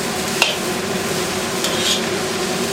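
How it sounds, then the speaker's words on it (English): Onions tossed into a hot pan of chicken stir fry give a steady, close sizzle with stirring, and two brief utensil clinks ring against the pan early and midway. "And throw in the onions. Toss all the way."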